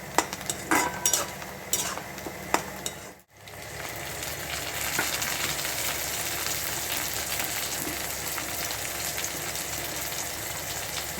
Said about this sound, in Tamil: இது வந்து வெங்காயம் நல்லா ஃப்ரை ஆகணும்